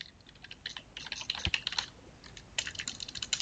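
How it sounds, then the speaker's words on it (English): Quick bursts of typing on a computer keyboard, close and fairly quiet, with brief pauses between runs of light key clicks and no voices. "One day I will learn how to type."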